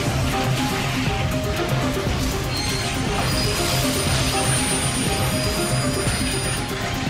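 An airliner jet engine roars continuously in a flight simulator game, with only one engine left running; a dense, loud, steady wash of engine noise with faint whines and no talking.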